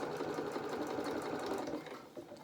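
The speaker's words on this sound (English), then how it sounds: "a couple of stitches to start off and a couple of stitches to reverse" A sewing machine stitches elastic onto doll bloomers in a steady, close, continuous whir that runs unbroken and eases slightly just before the end, with no voices.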